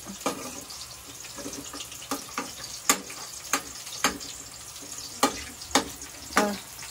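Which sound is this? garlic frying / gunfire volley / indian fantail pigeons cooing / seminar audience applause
garlic frying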